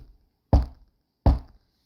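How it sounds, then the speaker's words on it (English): Strange knocking at night: two loud, heavy knocks land about three quarters of a second apart, each standing alone in otherwise near silence. "At nightfall, the girls heard strange knocks."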